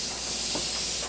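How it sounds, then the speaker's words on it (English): A continuous aerosol spray of starting fluid hisses steadily for about a second into a 1997 Argo Conquest engine, then cuts off. "let's give it a little bit of spray"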